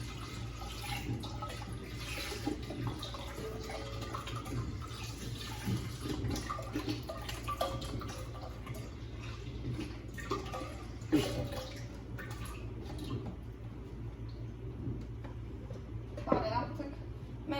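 One litre of fruit juice being poured into a pot of mulled wine (Glühwein), a soft continuous liquid trickle and splash under a person talking.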